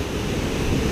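Continuous low roar of ocean surf at a kitesurfing beach in Port Kembla, Australia, mixed with wind buffeting the microphone, steady and fairly loud throughout.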